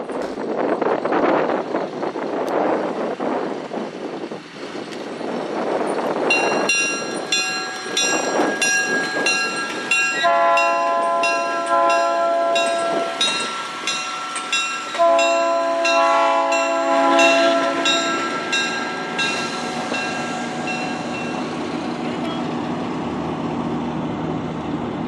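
Hocking Valley locomotive 4005 rumbles and clatters as it pulls a train, with a loud sustained multi-tone horn sounding repeatedly over the steady rolling noise and light wind buffeting close to the track.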